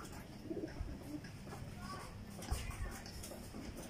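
Pigeon breeders' birds coo softly at close range amid light shuffling and wing rustles, with a person talking in the background.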